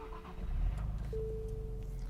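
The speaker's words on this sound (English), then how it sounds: "when this thing starts up, it actually almost sounds like a VQ engine" A 2023 Nissan Z Proto Spec twin-turbo V6 starting up, a short crank followed by a steady, fairly loud idle hum with no talk.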